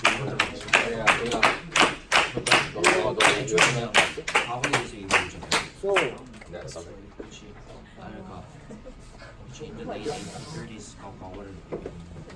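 A classroom of students claps for a group of classmates, with dense clapping for about six seconds before it thins out and stops.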